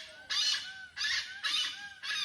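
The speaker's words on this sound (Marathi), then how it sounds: "धनेश पक्षी म्हणजे हॉर्नबिल." Great hornbill calling with a series of four loud, harsh, honking barks at a regular rhythm, each about half a second long, fairly near with no talk.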